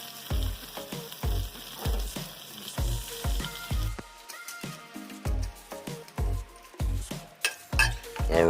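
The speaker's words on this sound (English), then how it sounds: "over a preheated cast iron skillet, of course, we will add some butter, and then we will add the bacon" Bacon and butter fry loudly in a preheated cast iron skillet, a steady sizzle broken by repeated rhythmic thumps and scrapes of stirring, with no one talking.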